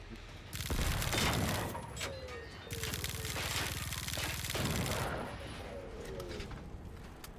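Gunfire from the Generation Zero video game comes as sustained bursts of rapid shots, loud and dense, easing between volleys with small mechanical clicks and whistling tones around them.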